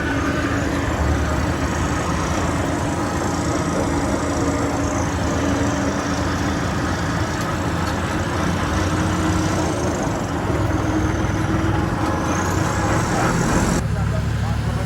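A tractor engine rumbles steadily and continuously at close range, with only a brief dip in the noise near the end.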